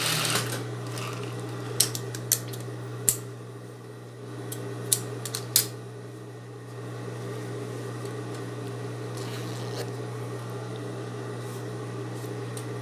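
A sewing machine stitches along the edge of a zipper with a steady, continuous mechanical hum, close and alone, broken by a few sharp clicks and taps in the first several seconds.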